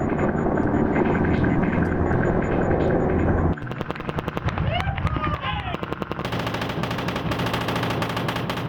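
Combat gunfire in Afghanistan, a dense sustained burst of shots followed by sharp repeated rounds and rapid bursts, loud and close, with a voice partly heard amid the shooting.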